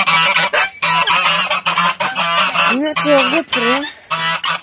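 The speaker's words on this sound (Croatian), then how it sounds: "Sad ćemo pustiti guske" Farmyard geese honking loudly and repeatedly at close range as they are let out, in bursts of harsh overlapping calls, with someone speaking briefly among them.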